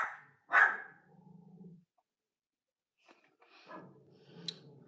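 Two female dogs at a dog meetup bark and growl, a sharp close bark followed by low rumbling growls, then more scattered yaps and snarls after a pause.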